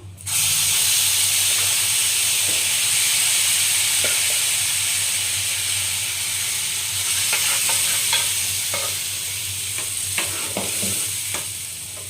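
Mango dal fries in a hot pan under a loud, steady sizzle with close hiss, while intermittent stirring scrapes and clicks sound over the top for the whole stretch.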